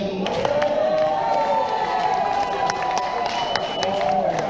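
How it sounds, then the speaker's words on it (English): A crowd at a trike rally on the Isle of Skye claps and cheers for the best trike, a steady wash of applause lasting the whole stretch with no single voice standing out. "Yeah, round of applause."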